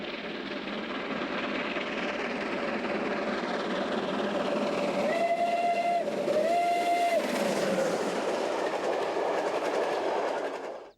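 A Pacific PM36 steam locomotive chugs steadily at a distance, with two short whistle blasts near the middle; no voices.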